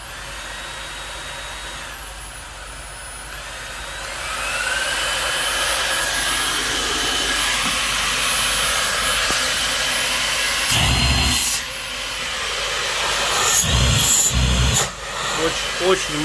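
Samsung Jet 70 cordless vacuum cleaner with a turbo brush running close by, a loud steady whooshing whine that climbs in power partway through, with brief dips and bumps near the end.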